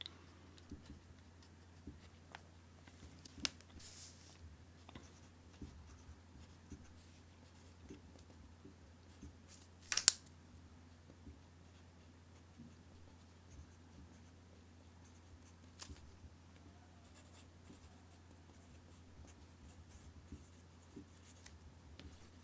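A pen or marker scratches quietly across a paper skirt pattern, drawing a side seam line in short, faint strokes with occasional light taps and a louder scrape partway through, over a low steady hum.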